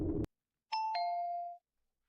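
A two-tone ding-dong doorbell chimes once, clear and close, its second note ringing out and fading, with a brief burst of noise just before.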